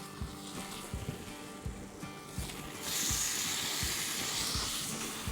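Fish dropped into a pan of sizzling butter and garlic, likely at an outdoor camp on Fraser Island; a steady hiss swells louder partway through over a low, rhythmic thumping background.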